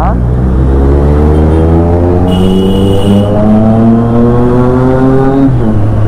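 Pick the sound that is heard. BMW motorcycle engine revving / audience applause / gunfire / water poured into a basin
BMW motorcycle engine revving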